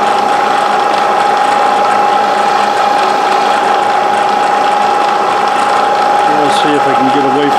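A milling machine cuts metal with a 3/4 inch end mill, a loud steady mechanical whine with a sustained high tone and grinding texture throughout, close up with no pauses.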